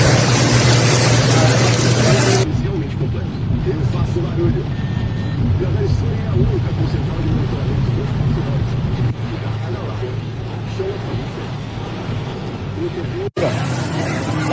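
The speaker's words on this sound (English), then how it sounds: "Lá vem carro." A car drives through a flooded street during heavy flooding, a steady broad rush of engine and water wash that starts loud, drops after a few seconds and continues as a low rumble with voices nearby.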